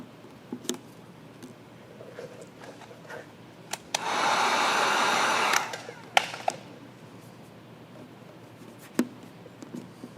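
A heat gun warms the adhesive of smoked lens tint film on a Ford Bronco Sport, making a steady, fairly loud blowing hiss for about two seconds mid-clip, with light clicks and handling taps before and after.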